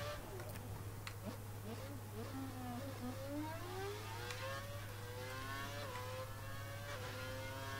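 An F1 car from the F1 2012 video game screams around Abu Dhabi in the dry, the engine revving up and down through gear changes in a steady high-pitched whine with a constant low hum beneath.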